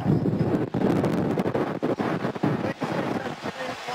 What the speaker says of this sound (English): You could just hear how windy it was.